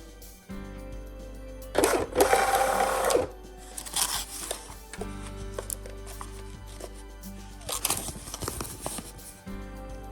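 A Munbyn label printer runs off a single cottage food label, giving bursts of mechanical whirring and feeding clatter with short pauses between them, fairly close.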